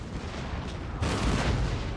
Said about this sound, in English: Shots coming in onto the armed citizenry there nearly hit them.